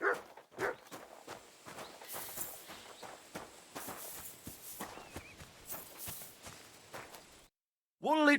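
A dog in the medieval open-world game Kingdom Come: Deliverance II, heard as a faint scatter of footstep-like patters and small rustles over quiet ambience, ending in a short gap before a louder burst of sound.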